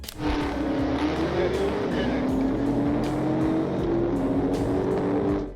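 A black Dodge Charger Hellcat accelerates hard during a police chase, its engine roaring steadily as the pitch climbs through the rev range, loud and close with some road noise.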